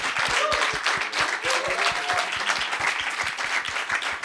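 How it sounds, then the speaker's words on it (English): A big round of audience applause at a university talk on music in the metaverse, many hands clapping in a dense, sustained, fairly loud wash with individual claps standing out, and a few voices faintly audible underneath. "Can I have a huge round of applause for them?"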